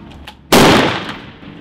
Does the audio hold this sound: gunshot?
yes